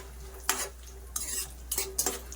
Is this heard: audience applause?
no